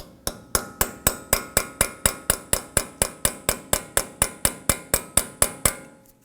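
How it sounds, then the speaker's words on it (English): A hammer taps a small punch against the axle stud of a 2015-2020 Ford F-150 during front ball joint work, about twenty sharp metallic strikes in a fast, even rhythm, close and clear. "We now want to go ahead and just tap the axle stud right here in just a little bit."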